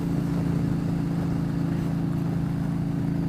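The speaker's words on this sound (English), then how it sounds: "pretty loud bike, not super pretty." A Yamaha Stryker 1300 cruiser motorcycle engine runs with a steady, loud low rumble and throb, continuous and close throughout with no pauses.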